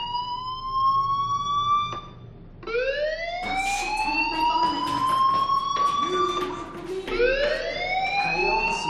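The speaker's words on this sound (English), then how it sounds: "Hey, do you hear that fire alarm?" A fire alarm wails in the video game Life Is Strange, rising siren sweeps repeating several times, loud and close over a low game background.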